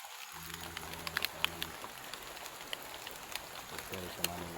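Rain falls steadily outdoors at night, a dense patter with scattered louder drops hitting nearby surfaces, while low voices murmur underneath at the start and again near the end.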